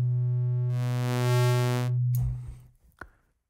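Ableton Wavetable synth on its default patch holds a steady harmonic tone while the wavetable position is scrubbed, adding a bright band of upper harmonics midway before the timbre fades and ends in a few faint clicks.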